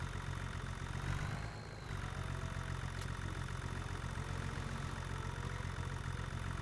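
A tractor engine idles steadily in a homestead farming video game, a loud, continuous mid-to-low drone with a brief dip partway through and a faint whine, with no speech over it.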